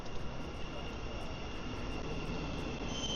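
A steady, loud rumble of an East Midlands Railway Luton Express passenger train to St Pancras, with a constant roar and a faint high whine over it.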